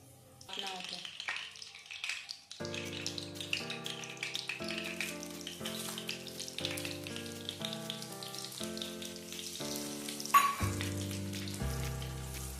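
Whole garam masala (shahjeera, bay leaf, cardamom, cinnamon, cloves, nutmeg and mace) fries in hot oil with a continuous soft crackling sizzle under music.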